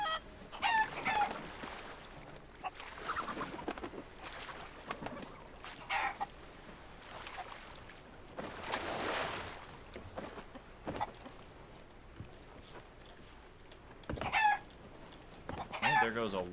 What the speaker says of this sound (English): And there goes a white chicken.